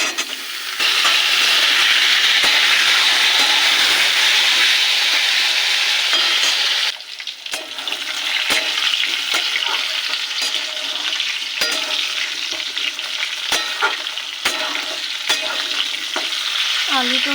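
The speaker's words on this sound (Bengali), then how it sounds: "আলুটা প্রায় ভাজা হয়ে গেছে।" Potatoes frying with parwal (pointed gourd) in a pan hiss in a loud, steady sizzle, broken by scraping stirs of a spatula, briefly quieting partway before sizzling on with repeated clanks.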